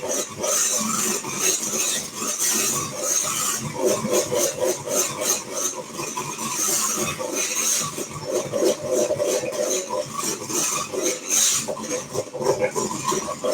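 Extra thick double cream being whisked, a steady scraping, rubbing rasp of the whisk against the bowl that runs continuously and fairly loud, with no talking over it.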